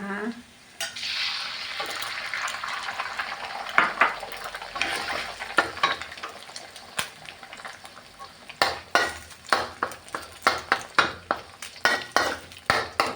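An egg fries in hot garlic oil in a pan while Thai fried rice is made, with a steady sizzle broken by a run of sharp scraping and clinking stirring strokes that quicken toward the end; no talking.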